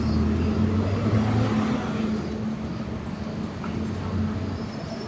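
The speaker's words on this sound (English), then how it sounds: "We're taking a bus." Inside a moving bus in Nagano, Japan, a low steady engine drone with humming tones fills the cabin, close and continuous, with no clear talk.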